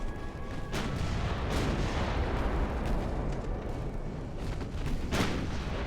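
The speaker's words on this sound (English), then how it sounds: "we should probably actually shoot at her a bit" Naval gunfire in Ultimate Admiral: Dreadnoughts, an 1890s-era warship battle, with heavy booming cannon blasts and rumbling explosions layered over a continuous low roar, loud and dense throughout.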